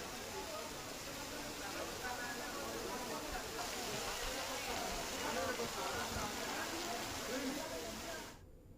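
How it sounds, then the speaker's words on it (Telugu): Heavy rain falls in Warangal district as a constant, dense hiss that fills the whole stretch before cutting off abruptly at the end. "వరంగల్ జిల్లాను మరోసారి భారీ వర్షం ముంచెత్తింది"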